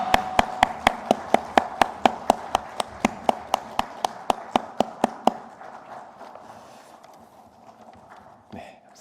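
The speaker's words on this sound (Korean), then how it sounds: "하나님께 영광의 박수 올려드리겠습니다." A church congregation at a Sunday worship service claps together in a steady unison rhythm, about twenty sharp, loud beats. The clapping then stops and gives way to a low room murmur.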